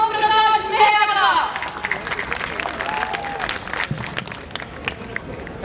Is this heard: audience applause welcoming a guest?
yes